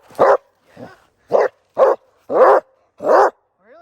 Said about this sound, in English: She doesn't normally bark at you when she's doing playtime, but she's indoors.